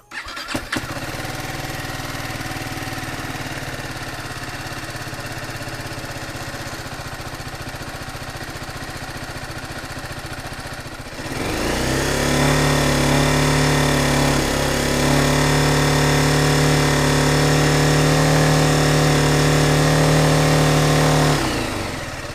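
A BMW G310 motorcycle engine cranks and then fires up about halfway through, settling into a loud, steady idle with a strong low hum that runs to the end.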